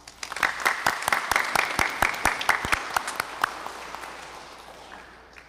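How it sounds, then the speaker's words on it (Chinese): A church congregation at a Sunday Mass applauds to welcome newcomers, a burst of many hands clapping that rises quickly, holds for a few seconds, then thins and fades away. "我们请大家鼓掌欢迎他们"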